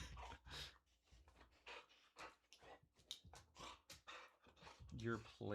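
A lab pit bull mix dog panting close by in quick rhythmic breaths, with a brief whimper near the end and a voice talking quietly under it.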